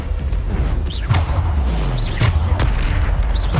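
Spell impacts in Hogwarts Legacy, a run of booming blasts and whooshing bursts repeating about every second amid dense game combat noise, with no talk.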